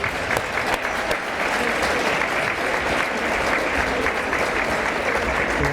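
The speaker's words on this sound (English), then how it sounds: "let's hear it from the crowd" A crowd applauds steadily at a girls' high school basketball game in an indoor gym, with dense, continuous clapping and a few faint shouts.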